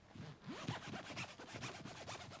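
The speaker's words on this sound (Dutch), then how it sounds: "Met een rits. Doe ik hem dicht." A jacket zipper is drawn closed in several quick, raspy ratcheting strokes, close and quiet, with no voices.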